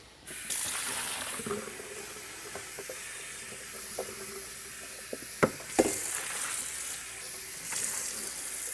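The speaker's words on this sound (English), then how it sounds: "Then just rinse with some cold water." Cold tap water runs and splashes into a Vitamix Professional Series 500 blender container during rinsing, a steady hissing flow with a few sharp knocks and clatters near the middle.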